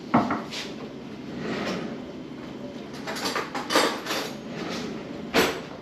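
Metal cutlery and utensils clatter in a wooden kitchen drawer while a spoon is fetched for a beef stew, several sharp knocks and rattles spread over a few seconds, up close.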